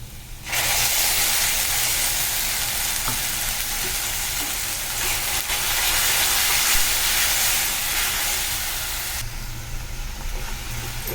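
Tomato and masala frying in a pan for egg curry, with a loud, steady sizzle and hiss that starts suddenly and carries on almost unchanged, and a slight stirring texture underneath.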